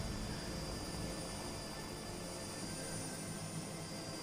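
Steady drone of an aircraft engine in a flight simulator game played on Xbox during a scenic flight from Bendigo to Swan Hill in Victoria, Australia, holding an even, continuous roar with no voices throughout.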